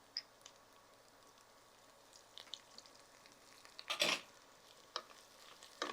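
Spices with chili powder sautéing on a low flame, a soft quiet sizzle with scattered stirring scrapes and taps, one louder scrape near the middle, no voices.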